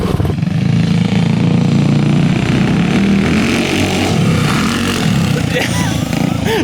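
The twin engines of a go-kart upgraded to 45 horsepower rev loudly and continuously up close, with a rough, buzzing motorcycle-like tone and shifting pitch, under occasional voices.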